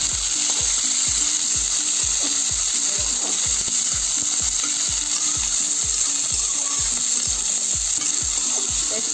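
Large onions fry in a pan with curry leaves, a constant bright sizzle under a regular, rapid run of clicking ticks, steady and close throughout.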